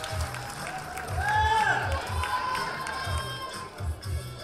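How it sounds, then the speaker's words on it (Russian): A live audience cheers and claps for a dance crew at an event, a roaring crowd wash over a steady thumping low beat, with voices shouting throughout. "Друзья, поаплодируйте теперь."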